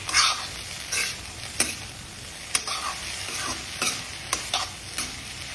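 Onions in hot oil sizzle steadily while a utensil stirs and scrapes the pan in sharp intermittent strokes, close and fairly loud, with no voices.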